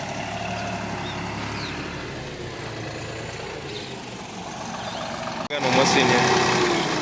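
A tractor loaded with potatoes, stuck fast, runs its engine in a steady low rumble that briefly cuts out and then returns a little louder, with people talking nearby.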